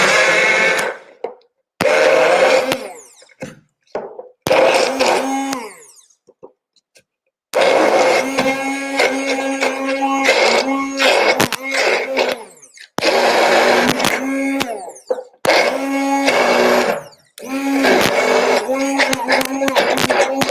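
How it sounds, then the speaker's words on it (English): A kitchen blender chops pasta-sauce ingredients with a little water added, its motor whirring loud and close in repeated bursts, stopping and restarting several times with short silent gaps between runs. "I had a little bit of water to help my blender to"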